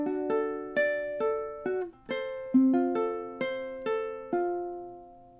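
Ukulele fingerpicking the intro of House of the Rising Sun, clear plucked notes in an even arpeggiated rhythm, about a dozen picks ringing and decaying cleanly, alone and close.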